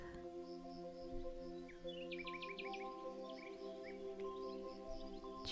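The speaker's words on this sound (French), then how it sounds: "Tu peux aussi entendre autour de toi les oiseaux chanter une douce mélodie." Birds chirp and sing in short bright bursts over a steady droning background, with a cluster of rapid repeated notes near the middle; moderately faint and continuous, no talking.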